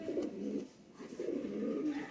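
Sialkoti and Kasuri pigeons coo nearby in two soft, rolling bursts separated by a brief pause, with no other sounds competing.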